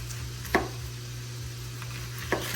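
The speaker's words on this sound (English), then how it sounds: "Take the head off of that right there." A knife chops through a large half onion to remove its top, giving two sharp, separate cuts against a board over a steady low background hum.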